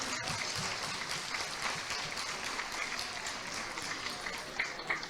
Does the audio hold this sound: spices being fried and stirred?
no